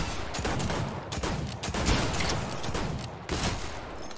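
Revolver shots crack in Fortnite: a rapid series of sharp, loud bangs in close succession, each with a brief ringing tail, with no talking.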